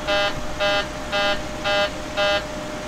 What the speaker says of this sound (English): The alarm sounds at the flight detent